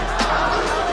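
Steady hubbub from a home crowd fills a UFC arena, a dense, continuous murmur of voices at moderate distance with no single voice standing out.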